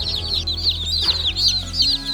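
Meat chickens, a loud, feisty flock of young birds, cluck and chatter continuously at close range, with overlapping high calls and no talking.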